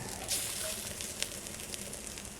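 Chicken frying in oil on a wood-fired clay village stove gives a faint, continuous sizzle with occasional soft crackles and pops.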